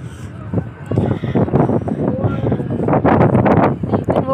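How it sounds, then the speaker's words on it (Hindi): A strong, cold wind gusts across a hill in a park, rushing and buffeting the microphone in loud, uneven surges, while someone talks over it. "देखे बहुत ठंडी हवा चल रही"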